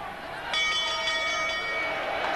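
A boxing ring bell rings to end a round in a professional fight, its sustained metallic tone ringing out over a noisy arena crowd and ringside commentary.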